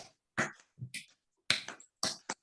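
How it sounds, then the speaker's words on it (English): Scattered hand claps ring out in a classroom during a quick movement break, about six sharp, separate claps close by with short silences between them. "Clap your hands."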